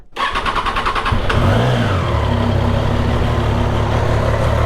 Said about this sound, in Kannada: ನಮ್ಮ ಗಾಡಿನ ಆನ್ ಮಾಡೋಣ ಸ್ವಲ್ಪ ವಾರ್ಮಪ್ ಆಗಲಿ